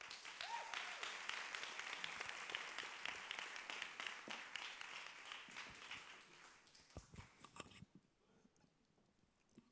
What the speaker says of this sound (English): we want to have a very big round of applause for Femi